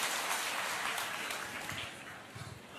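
A large audience at a Korean corporate presentation event cheers and applauds in a dense, steady roar, loud and close, fading slightly toward the end.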